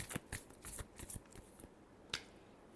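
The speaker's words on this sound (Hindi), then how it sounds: "Last shuffle." Tarot cards get a last quick shuffle, a string of short crisp card snaps and flicks in an uneven rhythm, soft and close with no talking.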